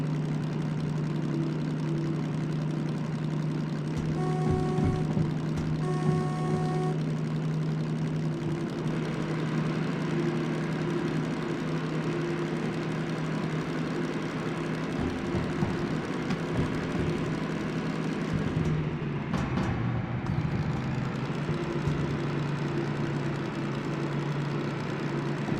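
DM3 diesel locomotive in the Derail Valley train simulator hauls freight, its engine droning low and steady with a gradual climb in revs, a few brief tonal whistles and clanks along the way, and no talk.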